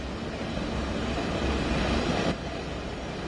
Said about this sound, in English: This is Train Sim World, Southeastern High Speed, London to Ashford and Faversham.